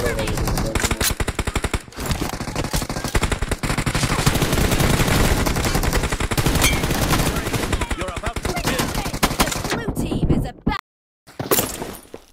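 MK14 rifle gunfire in the mobile battle royale game BGMI, dense rapid shots and impacts blasting almost nonstop, loud and harsh, with a brief break near the end before a few more bursts.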